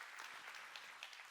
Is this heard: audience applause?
yes